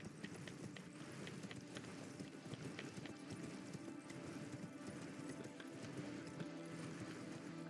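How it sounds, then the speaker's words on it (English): Torrent, the spectral steed in Elden Ring, gallops with rapid clip-clop hoofbeats in a steady rhythm, moderately loud over a dense game soundscape with occasional faint whinnies. "let's ride the horse. Up we go. Good old torrent"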